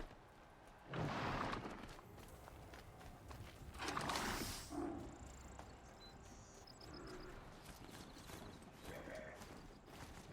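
Horse hooves clop in a steady trot at moderate distance in the video game Horizon Zero Dawn, with a couple of louder whooshing swells and a faint whinny over the ambient background.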